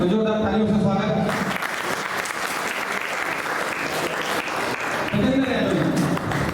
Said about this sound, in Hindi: तो जोरदार तालियों से स्वागत।